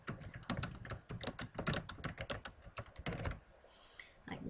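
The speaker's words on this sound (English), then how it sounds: "I can type something." Fast typing on a computer keyboard, a close, busy stream of crisp key clicks in bursts with brief pauses, ending in a short quiet gap before a few more taps.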